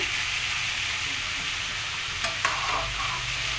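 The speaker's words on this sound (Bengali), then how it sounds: "চলো বন্ধুরা আমের ঝোল ফুটছে" Mango curry (aamer jhol) bubbling and sizzling in a pot, a steady close frying hiss with a couple of brief ticks and clinks near the end, no voices.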